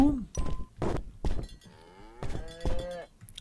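A cow moos several times in the video game Suicide Guy, drawn-out bovine calls with sliding pitch, loud and close, separated by short thumps and someone talking in between.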